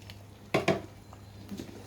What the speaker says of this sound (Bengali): আমি এখন একটু পরিমাণ মতন ঘি অ্যাড করে দিতেছি